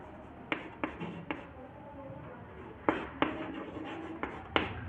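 Writing on a board during a physics lesson: about nine short, crisp taps and strokes in irregular clusters, near and fairly quiet over a soft room hum, with no speech.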